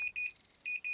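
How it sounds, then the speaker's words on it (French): A cartoon oven timer rings with a rapid, high-pitched electronic beeping in short repeated bursts, fairly faint with no one talking. "c'est la sonnerie du four"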